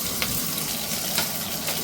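Garlic and chopped green chilli frying in hot mustard oil, a steady broadband sizzle with a few brief crackling pops, close and even throughout.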